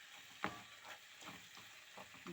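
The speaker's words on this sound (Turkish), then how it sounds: "Helvamız da bir yanda pişiyor." Faint soft sizzling of halva roasting in a pan, with occasional gentle stirring scrapes, quiet and close.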